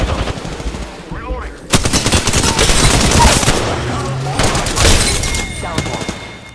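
Automatic gunfire rattles in Apex Legends, long rapid bursts of shots with a short lull between them, loud and close, with a voice speaking partway through.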